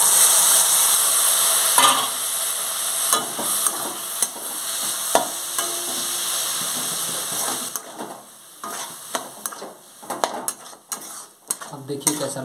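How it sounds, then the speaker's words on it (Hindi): Maggi noodles tossed into fried masala in a pan give a soft sizzle under repeated scraping and clinking of a utensil against the pan, close and busy throughout. "अब मैगी को डालते हैं इसमें।"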